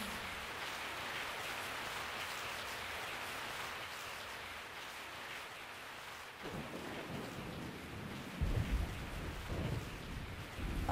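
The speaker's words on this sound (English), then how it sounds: "I woke up to the sound of falling rain" Steady rain falls in Resident Evil 3, a dense continuous hiss with low thunder-like rumbles building toward the end, fairly quiet and with no voices.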